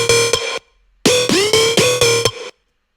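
Synth part with heavy pitch bends, played as a sequence of bright harmonic notes whose pitch swoops into place, in rhythmic bursts with a short gap, loud and alone.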